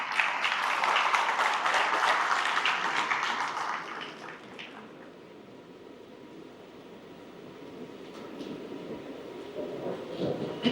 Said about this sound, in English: Please welcome Mr. Richard Morris to the stage with a big round of applause